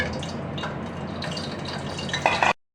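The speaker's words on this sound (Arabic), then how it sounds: "وهزود عليها حبه ميه" Water poured into a hot pan of liver and paprika, with steady sizzling and bubbling, stirring and dripping noises close up, growing louder near the end before cutting off.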